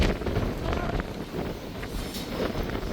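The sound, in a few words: strong wind at a high viewpoint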